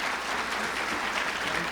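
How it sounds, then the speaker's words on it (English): Steady audience applause fills a hall at a spiritual talk event, following a devotional song; the clapping is dense and sustained throughout, with no voices standing out. "One big applause for them again, please."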